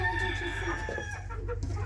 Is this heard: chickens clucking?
yes